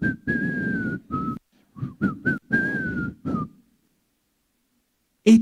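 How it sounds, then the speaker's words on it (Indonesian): A person whistles a cheerful tune alone, clear sustained notes broken into short phrases, with a brief louder knock or thump near the end. "maka dia akan pulang dari gereja dengan bersiul"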